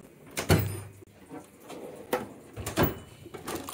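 Drawer of a Bluepoint by Snap-on service cart sliding open and shut, several sharp metallic clunks and rolling slides spaced a second or two apart, close by and alone.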